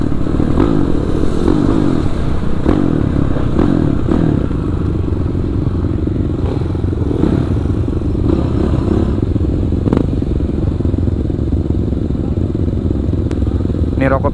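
Kawasaki KLX 450 supermoto engine running steadily and loud throughout, a rough continuous drone with occasional clatter and thumps, under intermittent talk.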